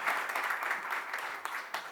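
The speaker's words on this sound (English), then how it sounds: "Big round of applause" Applause at a press meet for a breast cancer awareness campaign, a short dense burst of clapping that holds steady throughout.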